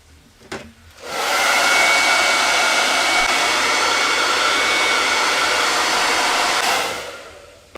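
A hair dryer blasts steadily and loudly at close range while drying a piece of Halloween decor. It starts abruptly after a brief click and cuts off after about six seconds.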